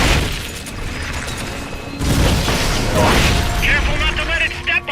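Metal Gear Solid: Peace Walker S-mines launching and exploding, heard as a burst of loud booming blasts and mechanical clatter amid dense game noise, building into a heavier explosive rush near the end.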